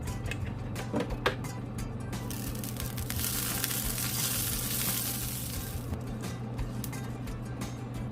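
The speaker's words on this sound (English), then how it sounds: "So I have my grill heating up. I'm going to add a little bit of olive oil to it." Olive oil sizzles on a heated grill, a soft steady hiss that swells for a few seconds in the middle, with a few light clicks and taps early on.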